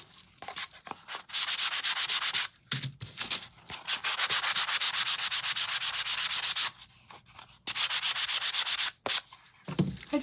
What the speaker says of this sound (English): And so this is the 320 grit. And I'm not really even putting any pressure on it.